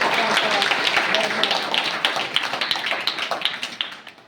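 An audience claps to welcome guests at a school gathering, a dense burst of hand claps that thins into scattered, fading claps toward the end, close and fairly loud.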